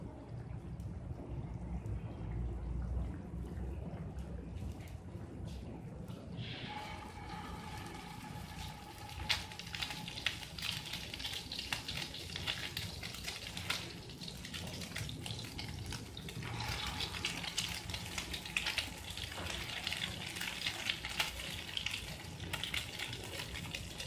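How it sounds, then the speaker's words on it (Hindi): Potato egg kebabs dropped one by one into hot oil give a steady, bubbling sizzle that swells louder as more pieces go in, a close, continuous frying hiss with occasional clicks. "ऑयल गर्म हो चुका है तो अब हम एक एक करके इसके अंदर कबाब डालते जाएंगे।"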